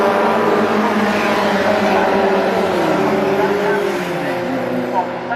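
Race cars starting a race at Cadwell Park circuit, a loud blend of engines revving and accelerating away together, with a commentator talking over the roar.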